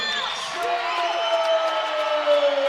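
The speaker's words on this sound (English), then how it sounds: "Crowd is pretty pumped." At a college wrestling dual meet, the crowd cheers after a pin with sustained whoops and shouts that blend into a steady roar in a large arena.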